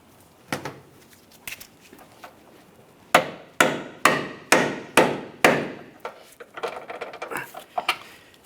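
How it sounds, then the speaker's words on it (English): A rubber mallet taps a subframe crossmember mounting bolt on a 2007-2017 Jeep Patriot, giving a burst of six evenly spaced, sharp knocks, close and clear, with scattered smaller knocks of handling around them and no talk. "lightly tap with a rubber mallet"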